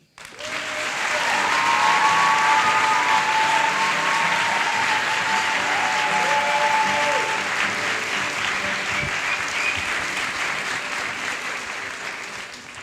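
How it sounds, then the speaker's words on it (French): A live storytelling evening audience applauds loudly for the storyteller Marc, a dense, sustained roar of clapping swelling quickly and holding for over ten seconds, with faint whoops and tones over it. "Merci d'applaudir très fort Marc."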